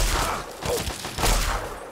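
Gunfire in Fallout 3, a dense run of muffled shots and blasts in quick succession, loud and continuous with a heavier burst near the end.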